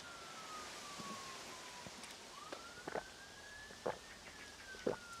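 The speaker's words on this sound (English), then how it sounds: "Oh, I can hear sirens again." A faint siren wails far off in Blackpool, its pitch slowly rising and falling, while soft thumps and scuffs sound nearby over quiet background noise.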